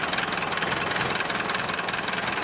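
A Toyota Corolla's four-cylinder non-turbo engine idles close by with a steady, even throb and a slight knocking pulse that holds at one level, with no talk over it.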